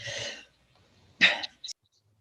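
A short breath, a pause, then a single sharp sneeze close by, followed by a brief small exhale.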